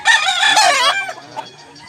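A 15-month-old Dragon Pumpkin Hatch gamecock at a seller's place in South Cebu crows once, loud and close, a drawn-out call that fades to quiet within two seconds.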